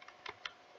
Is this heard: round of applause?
no